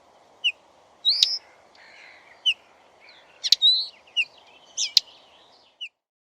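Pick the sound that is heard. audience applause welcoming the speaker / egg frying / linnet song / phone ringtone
linnet song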